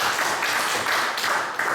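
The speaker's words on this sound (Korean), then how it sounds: "감사의 박수 올립니다" A church congregation clapping in thanks during a Sunday sermon, a brief burst of fairly loud, even clapping from many hands, continuous with no talking.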